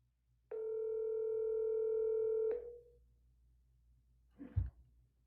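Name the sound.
phone call dial tone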